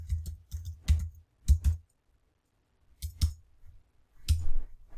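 Someone types a password on a Mac computer keyboard, close up, with short bursts of key clicks broken by a pause of about a second before a final few strokes.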